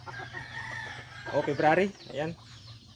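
Young stag roosters, recently caught wild junglefowl, crow and cluck nearby in a couple of rising calls, with someone talking briefly over them.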